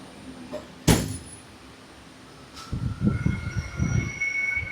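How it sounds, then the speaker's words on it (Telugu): A sharp metallic clank, then a high, steady squeal of train wheels rises over low rumbling as rail cars roll and slow, on the Araku line from S. Kota to Araku. "ట్రైన్ ఆపాడు"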